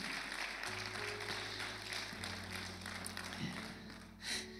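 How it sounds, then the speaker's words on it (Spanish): A church congregation applauds in praise during a sermon, with soft, diffuse clapping under sustained keyboard chords from the worship band, fairly faint and distant. "Podemos darle un aplauso y una alabanza al Señor por eso."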